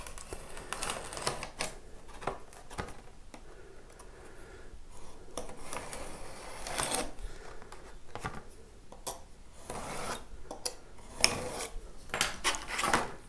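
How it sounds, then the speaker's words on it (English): A very sharp knife shaving and cutting wood for a guitar body, a run of quick close scraping strokes and small clicks, steady and fairly quiet, with no talking. "with a very sharp knife you can get it done just as well."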